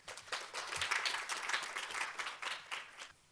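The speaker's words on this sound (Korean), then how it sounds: "박수로 맞아주시면 감사하겠습니다." Audience applause at a science and technology policy forum in Daejeon, held in the IBS Science Culture Center hall: steady, moderately loud clapping from a sizeable crowd lasting about three seconds before tapering off.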